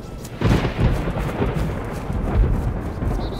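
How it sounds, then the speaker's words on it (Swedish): Thunder rolls through a stormy swamp area in the video game DayZ: a deep, loud rumble that breaks in after a short pause and keeps grumbling and surging for several seconds with no talking. "Blixtrar och dunder!"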